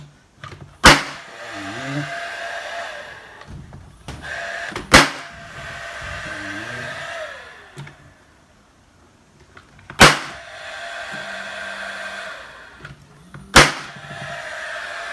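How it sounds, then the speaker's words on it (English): A nail gun pins together a wooden planter box, firing four sharp, loud cracks spaced a few seconds apart, with a faint compressor hum and small handling knocks in between. "this will be just pinned together with my nail gun"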